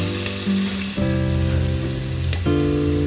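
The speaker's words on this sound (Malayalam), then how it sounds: "ഇഞ്ചി പേസ്റ്റ് ചേർക്കണം. എന്നിട്ട് നന്നായിട്ട് വഴറ്റണം." Onion sautéing with ginger paste in a pan for chicken curry, a steady close frying sizzle with a couple of stirring shifts, backed by a sustained tonal hum, no talking.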